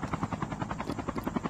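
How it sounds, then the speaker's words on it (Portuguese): A video game helicopter's rotor thumps steadily and loudly, close up and heard alone for a moment. "Tem gente de helicóptero por ali."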